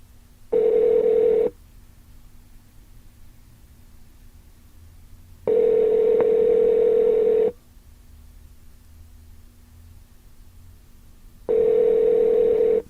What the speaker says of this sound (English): Let me call a 24-hour diner and see what time they close.